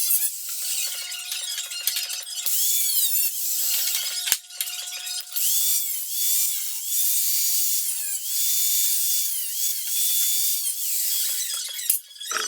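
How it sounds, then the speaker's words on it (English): A power cutting tool grinds and saws steadily through excess sheet metal on a BMW E36 fender for an overfender fit, loud and close, with brief pauses and a sharp clank near the start and end. "I'm gonna just cut all this excess stuff, like all that excess metal that I don't need anymore"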